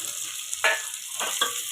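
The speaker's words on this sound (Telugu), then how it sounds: "ఉల్లిగడ్డ ఎర్రగైనాక వేగినాక టమాటా వేసుకోవాలి." Tomato dropped into a pan of frying onions, giving a few short bursts of sizzling over a steady background hiss, close and fairly quiet.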